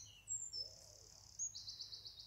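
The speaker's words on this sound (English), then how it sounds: "The bird song," Faint high bird calls and chirps drift through a quiet summer meadow, a few thin whistled notes over soft background hiss, with no voices.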